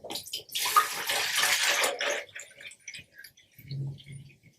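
Water pours and splashes into the tank of a VH 600 hydrogen generator for about two seconds, then stops, leaving a few faint drips and small clicks nearby.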